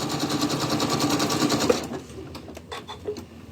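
Sewing machine running a decorative stitch on cloth, a fast steady mechanical rattle that stops abruptly partway through, followed by a few faint clicks and handling sounds.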